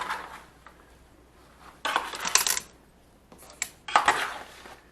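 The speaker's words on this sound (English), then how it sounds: "let's mix up these potatoes" Potatoes are stirred in a bowl with a utensil, giving three bursts of clinking and scraping against the dish, separated by quiet gaps and with no talk.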